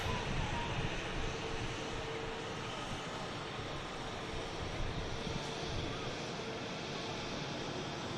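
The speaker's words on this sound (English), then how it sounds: "There's the beautiful Qatar following EasyJet out." At Manchester Airport, a Qatar Airways airliner taxis out behind an EasyJet jet, heard as a steady, wind-like wash of distant engine noise at a constant level.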